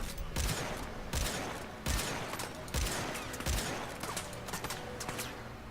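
Gunfire in the Warframe video game: loud, broadband shot bursts in quick clusters about every half second to second, layered with a continuous noisy combat din, with no talking.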